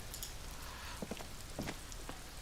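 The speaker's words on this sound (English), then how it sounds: "Raining" Steady rain patters on a surface in the video game Disco Elysium, with a few sharper drips landing nearby, soft and continuous with no voices.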